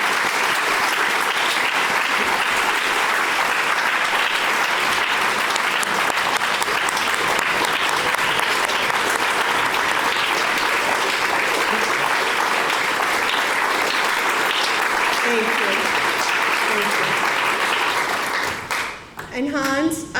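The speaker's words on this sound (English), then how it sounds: "Please join me in a round of applause for Michael Gruenbaum," Loud, sustained audience applause at a tribute event, dense clapping filling the room for nearly the whole stretch before tapering briefly and giving way to a voice near the end.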